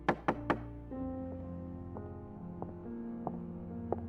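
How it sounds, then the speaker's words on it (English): Three quick, sharp knocks ring out on a metal door, leaving a low lingering hum with a few faint taps afterward. "knock a few times on the metal door"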